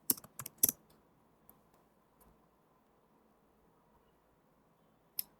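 A short burst of keystrokes on a computer keyboard while code is typed, several close clicks at the start, then near silence with a soft hum and one last isolated tap.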